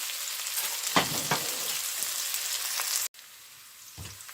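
Onion and garlic sauté in hot oil for a fish tamarind curry, giving a steady close sizzle with a few louder stirring scrapes and a brief drop in level near the end; no talking.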